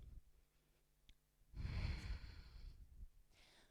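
Deep, audible breathing during a yoga flow, a long forceful exhale swelling up after a quiet inhale, close and unaccompanied by talk.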